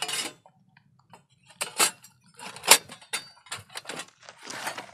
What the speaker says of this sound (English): there goes one plate. There goes another one.